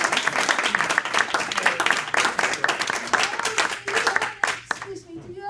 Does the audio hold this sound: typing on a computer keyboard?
no